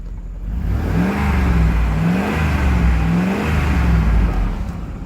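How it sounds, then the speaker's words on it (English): A Dodge Durango engine revs close up, a loud steady mechanical roar with a few rising and falling swells in pitch and no talking. "Let's listen to this motor."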